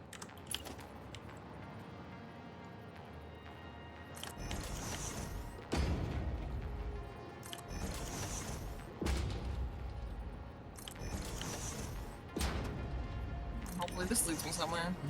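Factory machinery in the game Satisfactory runs while producing cast screws, with repeated creaking mechanical clanks and thumps that recur every couple of seconds, and a voice talks over it throughout.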